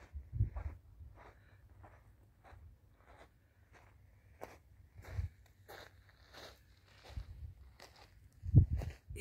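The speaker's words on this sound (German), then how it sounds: "Hinter mir sind Schritte zu hören." Footsteps crunching on a gravel path at the rim of the volcano crater on Vulcano in the Aeolian Islands, soft irregular steps with a few louder scuffs, fairly close and quiet.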